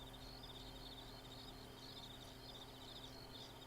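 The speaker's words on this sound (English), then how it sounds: "Got some grasshoppers or something going on in there." A summer-night insect chorus of grasshoppers in The Sims 4 game: a steady, dense, high chirring drone that runs unbroken over a faint low background hum, with no voices.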